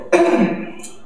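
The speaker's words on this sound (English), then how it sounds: "Which then made me cough." A single sharp cough during a group meditation session, loud and close, trailing off into quiet room tone.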